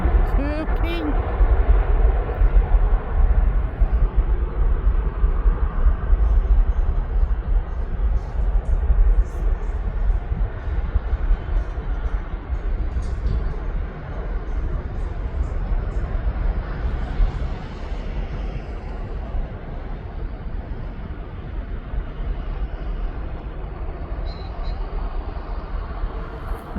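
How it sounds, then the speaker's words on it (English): Jet2.com passenger jet departing East Midlands Airport, a loud continuous low engine roar that stays steady and slowly eases off, with talk over it. "there goes that Jet2.com livery off down to Izmir in Turkey"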